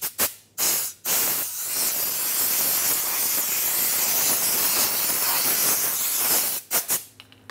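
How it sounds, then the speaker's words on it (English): Compressed air blasts over a Dodge Ram 2500 rear axle hub, a few short hissing bursts then a long loud continuous rush, close up, ending in more quick bursts. "Dry it off with compressed air if you have access to it."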